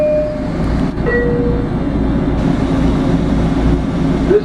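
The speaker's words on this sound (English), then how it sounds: "This is the train to Penn Station." Commuter train standing at Seaford station on the line bound for Penn Station, a steady low rumble of engine and rail noise close by with brief tonal chimes and squeals over it, no talk.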